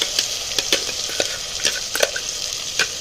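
Onion paste frying in a pan, stirred with a utensil: a constant sizzle broken by irregular scraping clicks as the paste is moved around.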